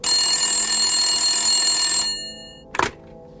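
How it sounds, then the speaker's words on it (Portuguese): A telephone bell rings loudly and continuously for about two seconds, then cuts off and fades, followed by a single short clunk as the receiver is picked up. "Foi o Queiroz quem instruiu o Babão a telefonar para Sorocaba."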